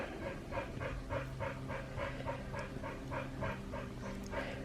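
Dogs pant rhythmically and steadily right up close indoors, a fast repeating breathy pulse with faint shuffling movement and no talk.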